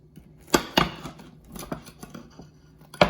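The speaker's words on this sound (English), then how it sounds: "Cut it into squares," A baked egg and cheese casserole is cut into squares in its pan. Sharp, close clicks and scrapes come in irregular bursts, with quieter faint taps in between.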